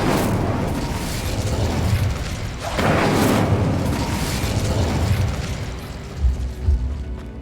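Incendio fire spell cast in Hogwarts Legacy on PS5, a sustained roaring, crackling burst of flame with booming swells, loud and continuous throughout with no talking.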